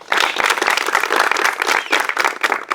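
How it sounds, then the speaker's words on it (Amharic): A crowd at an Ethiopian b-boy and b-girl dance event claps loudly and continuously, a thick wash of hands with faint voices underneath. "ከዛ ደግሞ ለውሏችሁ አጨብጭቡ።"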